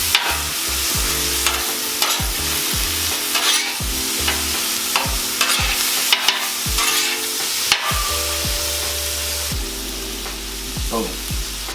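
Onions, garlic and smoked ham sauté on a 36-inch Blackstone griddle, giving a steady loud sizzle broken by repeated rhythmic scrapes and stirring knocks of a spatula, close up and with no talk.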